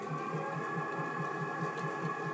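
A dough mixer running at maximum speed of 400 RPM gives a steady, fairly quiet mechanical whir with an even rhythmic pulse, close by and continuous with no voices.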